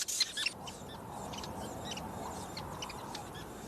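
Sociable weaver birds chirp and chatter in scattered, squeaky calls, a sharper burst at first, then quieter twittering over a faint background hiss.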